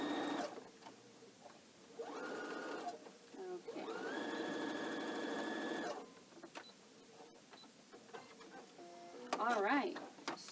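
Close bursts of a sewing machine stitching a pillowcase, running in two longer stretches with pauses between, while a person talks quietly in the gaps.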